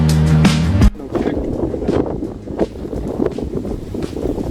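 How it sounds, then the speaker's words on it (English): Wind gusting outdoors during a DIY oil change on a Bentley Continental GT, a rough broadband rumble buffeting the microphone after a brief loud mechanical noise at the start. "Now getting windy."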